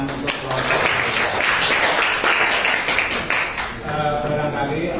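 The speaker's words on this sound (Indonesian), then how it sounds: "Berikan tepuk tangan untuk kelompok." A classroom of students claps for a presentation group, a loud mass of hand claps that runs for several seconds and then thins out as a voice begins speaking.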